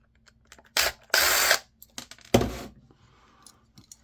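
A screwdriver works screws out of a 1982 G&E camcorder on the bench, giving a few short ratcheting, grinding bursts separated by quiet gaps and small clicks, close and fairly loud.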